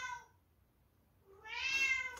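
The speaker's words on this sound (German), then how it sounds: "mein Kater hat wieder irgendein Problem, das macht er hin und wieder." A male cat meows twice indoors, a brief call followed after a pause by a longer, louder drawn-out meow, close and alone.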